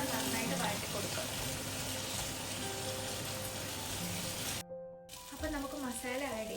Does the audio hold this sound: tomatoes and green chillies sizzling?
yes